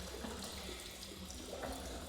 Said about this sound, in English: Okay, so we did drop the water level